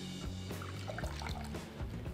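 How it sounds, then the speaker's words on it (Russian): Water dripping and trickling from a wet towel as it is gently wrung out, with splashy drips into water, close and continuous without talk. "Достаем и по чуть-чуть отжимаем."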